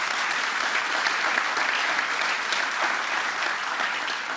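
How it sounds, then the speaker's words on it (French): An audience claps steadily and evenly for a competition jury at a Mozart concert final, a dense continuous applause with no voices over it. "je vous demanderai de les applaudir"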